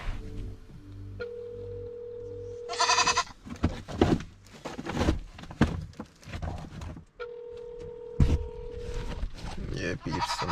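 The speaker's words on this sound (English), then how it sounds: "So I get the ram goat now." A ram goat bleats in two long wavering calls with a gap between, close and loud, with people talking in Jamaican patois around it.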